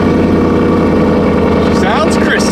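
A Ford Mustang fitted with a promod turbo engine of over 2000 hp fires up for the first time, settling into a loud, steady, rumbling idle with a dense, constant drone and a brief rise in pitch near the end.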